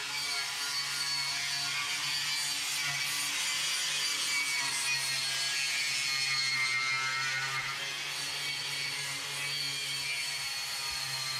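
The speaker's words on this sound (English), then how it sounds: "But Randy, he's back there now, wire wheeling the back fenders" A wire wheel grinds at the rear fenders of a 2005 GMC truck being prepared for paint, giving a steady, rough abrasive whir in the background of a workshop.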